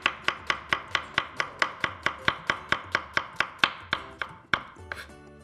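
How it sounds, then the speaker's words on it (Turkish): A knife chops onion finely on a cutting board in a steady, quick rhythm of about twenty crisp close taps, then stops and gives way to a few softer scraping sounds. "soğanlarımızı bu şekilde doğruyoruz"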